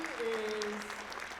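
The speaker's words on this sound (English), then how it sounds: "Can we give her another round of applause?" An audience applauds Leah at an education excellence celebration, with steady, fairly distant clapping for about a second and a half and a voice running over it.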